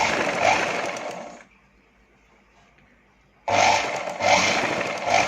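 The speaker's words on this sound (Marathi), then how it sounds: "असं शिवून घ्यायचं" A sewing machine stitches the shoulder seam of a katori blouse: a loud, close, whirring run of rapid stitching stops for about two seconds of near silence, then starts again at full speed.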